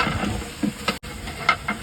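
Ginger garlic paste frying with onions in a large pan for village-style kandoori mutton, a steady soft sizzle with faint hissing and a few light stirring scrapes, close and without talk.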